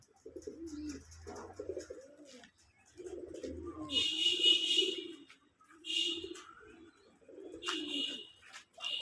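Jalali pigeons at a pigeon farm make soft low cooing calls in repeated bursts nearby, with higher chirps and rustling in between.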